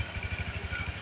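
Yamaha RS8 scooter engine fitted with a super cam, 56 mm block, stock exhaust and stock CVT, running steadily with a low, even pulsing throb close by.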